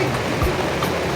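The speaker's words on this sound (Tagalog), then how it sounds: "Umuulan na naman" Rain falling steadily on a tent at an outdoor flea market in Balibago, Angeles, a dense continuous wash of water noise with no break and no voices.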